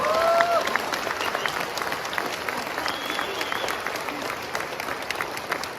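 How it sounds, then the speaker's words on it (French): Audience applause at a talk on African leadership, thick steady clapping from a crowd that stays fairly loud throughout the six seconds, with a brief whistle-like tone early on. "Je vous demande de l'applaudir très fortement"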